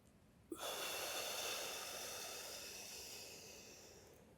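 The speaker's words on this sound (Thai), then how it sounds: "หายใจ ลึก ยาวช้า แล้วเก็บเอาไว้" One long, slow, deep breath during a Buddhist breath-meditation session, starting with a sharp intake and then a steady airy rush that fades gradually, heard alone and fairly faint.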